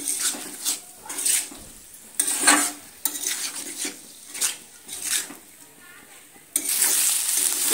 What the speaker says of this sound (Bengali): দিয়ে আবারও হালকা হাতে একটু নেড়ে চেড়ে নিচ্ছি। এটাও আবারও আমি সময় নিয়ে একটু কষিয়ে নেব।